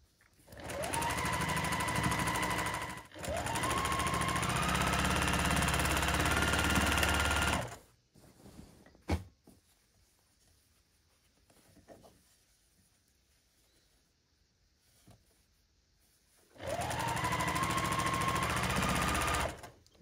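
A sewing machine stitches the last seam of a quilt center, running in loud, steady bursts of about three and five seconds, then going quiet before one more run near the end.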